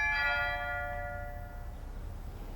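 A doorbell rings once, a single bright chime whose tone rings out and slowly fades over a quiet room background.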